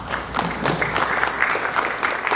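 An audience claps during an inaugural speech, uneven clapping that swells and dips briefly, fairly close, with no talk over it.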